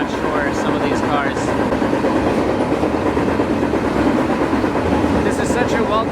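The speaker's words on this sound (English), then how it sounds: "Now these are like high priority mail trains that just don't stop for much" A freight train of high-priority mail cars rumbles past close by on the Great Plains with steady rhythmic clickety-clack of wheels on rails and a continuous roar.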